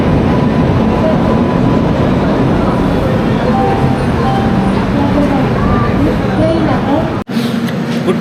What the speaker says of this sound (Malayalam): നമ്മുടെ ട്രെയിൻ എത്തി.